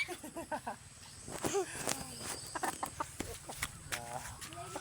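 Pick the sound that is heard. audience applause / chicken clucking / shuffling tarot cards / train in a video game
chicken clucking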